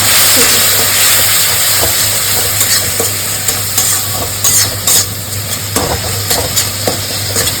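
Sidol dried-fish paste cooks with okra in a pan, giving a loud, steady sizzle and hiss with repeated scraping and stirring strokes close by and no one talking.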